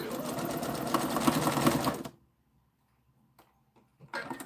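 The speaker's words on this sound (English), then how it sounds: "I was going to double sew it there" A sewing machine stitching fabric runs loud and steady for about two seconds with a rapid mechanical rattle, then stops abruptly, leaving near silence broken by a few small clicks before a brief return of sound at the end.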